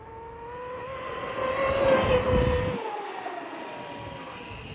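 An Arrma Kraton EXB 1/5-scale 8S RC car on a 1250 kV Spectrum motor runs at speed, its high motor whine rising as it nears and passes, then fading away.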